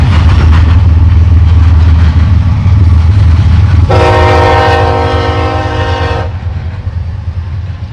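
A freight train rumbles past close by with heavy low roar and wheel clatter, then its horn blasts one sustained chord for about two seconds before the rumble fades.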